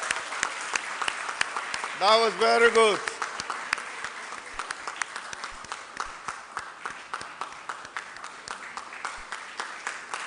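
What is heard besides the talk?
audience applause for an award presenter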